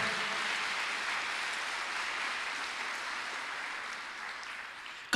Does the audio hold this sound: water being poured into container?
no